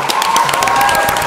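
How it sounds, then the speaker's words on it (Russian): A lively crowd breaks into applause and cheering. The clapping is loud and dense, with whoops rising above it. "Прошу всех приветствовать, бурные продолжительные аплодисменты"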